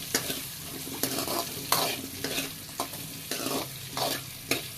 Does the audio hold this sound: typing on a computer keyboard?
no